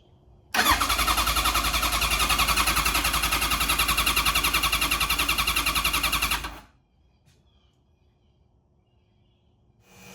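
A Kawasaki KZ1000 motorcycle engine with a freshly repaired starter clutch fires up loudly and close, running at a steady, strong idle for about six seconds before cutting off abruptly into near silence.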